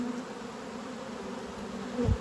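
Close, steady buzzing of many honeybees, a continuous drone with one louder bee passing near the end.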